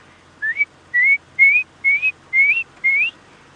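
A person whistles an imitation of the red-crested korhaan's call: six short rising whistles in an even, steady series, close and clear, with no talking.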